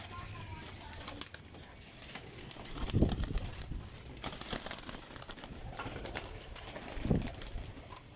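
Flying champion Teddy golden pigeons coo softly a couple of times amid a hissy, busy outdoor background, with faint chirps throughout.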